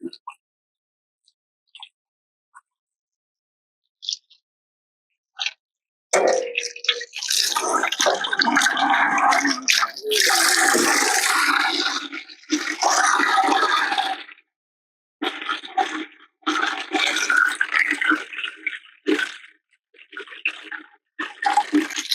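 Water drains from an RV hot water tank holding about six gallons into a bucket, starting with a few scattered drips and spurts, then gushing and splashing loudly in long bursts with brief pauses between them.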